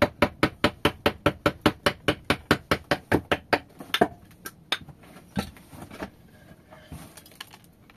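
Carving a wooden mule by hand, with a rapid, even run of sharp knocks like mallet blows on a chisel, then slower, irregular taps and scrapes trailing off.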